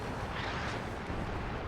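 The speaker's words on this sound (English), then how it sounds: "Cluster artillery." Cluster artillery in the real-time strategy game WARNO fires as a dense, continuous rumbling barrage of blasts, loud and steady throughout with no speech over it.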